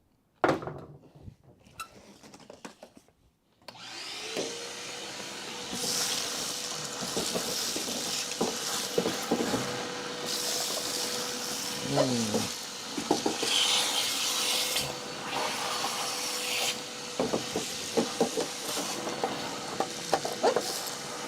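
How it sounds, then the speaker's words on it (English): A shop vacuum cleans out the inner rocker panel of a car, a steady broadband rushing roar that starts after a few seconds of quiet clatter and runs on with shifting knocks and scraping as the nozzle moves. "shop vac."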